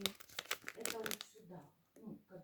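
A school notebook is torn apart, with sharp crinkling and ripping of paper that comes in bursts and mixes with a person talking nearby.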